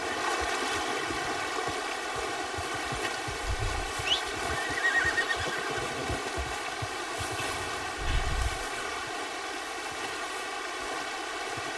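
A horse in Red Dead Redemption 2 gives a short whinny partway through, set against a steady hum of game ambience with a second faint stir of sound later on.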